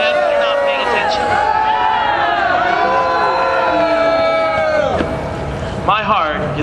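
An outdoor equality rally crowd cheering and shouting, a loud, dense wash of many voices and whoops that rises and falls, with some higher yells breaking out near the end.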